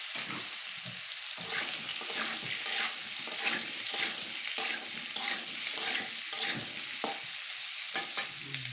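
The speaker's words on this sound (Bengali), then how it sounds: "সরষের তেলটা গরম হয়ে গিয়েছে, এখন এই কাঁঠাল কটা ভেজে নেব" Jackfruit pieces fry in hot mustard oil with a steady, close sizzle, broken by repeated scraping stirs of a spatula throughout.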